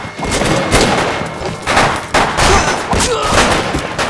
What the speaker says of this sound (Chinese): 我现在就下令开枪